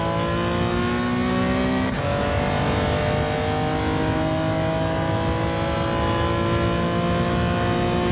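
A Porsche 917 race car engine in a racing game roars loud and steady throughout, its rising tonal whine shifting pitch around the two-second mark as it changes gear, with no voices over it.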